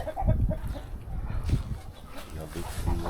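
Chickens cluck softly and repeatedly on a homestead, close by, mixed with low rumbling background noise and a person talking over them.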